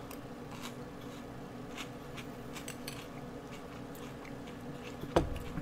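Crunchy chewing of Trix cereal with marshmallows, close and continuous with scattered crisp bites and a sharper crack near the end, no talking.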